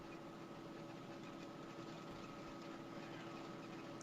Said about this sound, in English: I can hear like a motor, an engine or something.